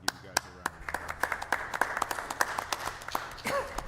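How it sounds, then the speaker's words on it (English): Scattered applause from a small group at a local bicycle and pedestrian safety committee meeting, with distinct individual claps close by and a brief murmur near the end. "I just want to give you guys a round of applause"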